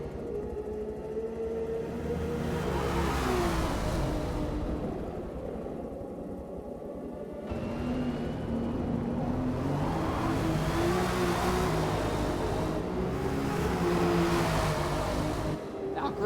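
GT race cars accelerate around Sebring in a racing video game, engines droning and rising in pitch as they rev through the corners. A commentator's voice runs over the steady engine roar.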